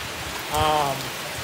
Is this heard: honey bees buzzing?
no